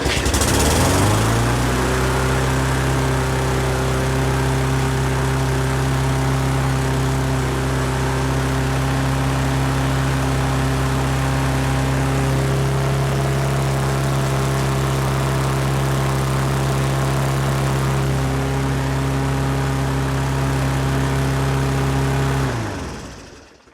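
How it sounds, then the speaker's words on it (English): Lawn mower engine racing at about 4,000 RPM, a steady loud drone with strong harmonic bands held for over twenty seconds before cutting off abruptly at the end, no voices over it. "This engine is not going to last overly long if we let it keep running there"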